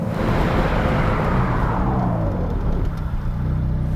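A 2016 McLaren 570S engine roars during a launch control start, loud and close, with the pitch climbing steadily as the car accelerates hard, then settling into a lower rumble.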